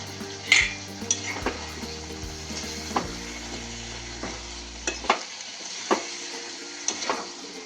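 Eggplant pieces fry in a pan for a Maharashtrian vangi pavta dry bhaji, giving a close, continuous sizzle broken by occasional metallic clinks and scrapes of a spoon stirring against the pan.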